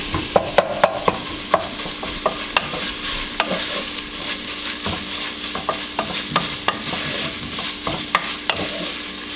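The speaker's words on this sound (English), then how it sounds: "I have 1 pound of lean ground beef over there, browning already" Lean ground beef browns in a pan with a steady sizzle, while a utensil repeatedly scrapes and taps against the pan in sharp, irregular clicks.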